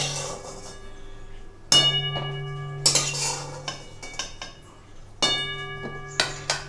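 A metal utensil clanks against a pan while fried potato pieces for a mutton curry are lifted out, giving a few distinct ringing strikes and scrapes spaced seconds apart, fairly close.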